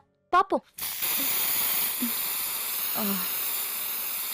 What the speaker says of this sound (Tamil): குக்கர் விசில் அடிக்கிறது